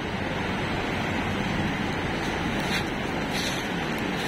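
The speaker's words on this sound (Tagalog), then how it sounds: "lakas din yung alon" Strong sea waves roll in at Santa Maria beach in Ilocos Sur, churning in a loud, continuous roar with steady broadband surf and wind noise and no pauses.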